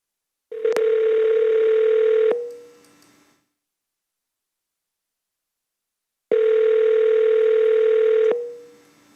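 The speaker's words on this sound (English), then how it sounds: "We are dialing the next speaker." Two bursts of a telephone tone ring out during a call placed from a city planning commission meeting, each a loud steady tone of about two seconds followed by a fading tail, separated by a few seconds of silence.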